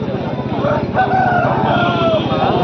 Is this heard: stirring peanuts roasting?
no